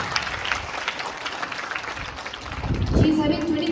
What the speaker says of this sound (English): So give a huge round of applause and welcome her.